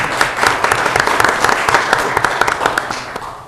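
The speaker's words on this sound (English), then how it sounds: "It is okay to applaud." Applause for city council candidates at a Clearfield City council meeting, a steady patter of many hands clapping close by for a few seconds, without talk.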